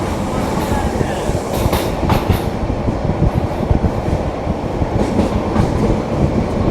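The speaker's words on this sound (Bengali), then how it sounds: "আমরা মোটামুটি ভালো স্পিডের সাথে থ্রু পাস যাচ্ছি লাকসাম রেলওয়ে জাংশন" The Cox's Bazar Express runs at good speed through Laksam railway junction, heard from inside as a loud, continuous rumble with rattling clickety-clack wheel beats and brief metallic squeals.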